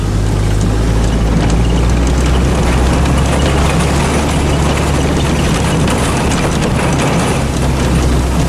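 A tanker vehicle drives off while spreading water over grass, its engine a loud, steady, close rumble that fills the whole stretch with no pauses.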